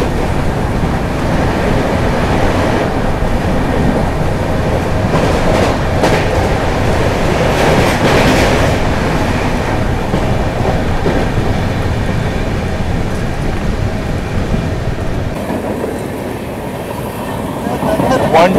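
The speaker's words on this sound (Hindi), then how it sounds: "पूरी हावड़ा सुपरफास्ट एक्सप्रेस भयंकर बारिश में होता हुआ क्रॉसिंग" Loud, continuous roar of the Howrah–SMVT Bengaluru Superfast Express (12863) rushing along the tracks nearby at night in heavy rain near Jaleswar station, with rumbling wheels and wind-like noise throughout.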